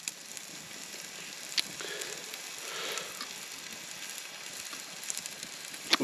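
A steak sizzles over a campfire at a wild camp beside a loch, a faint steady hiss broken by occasional small crackles and pops, with no talking.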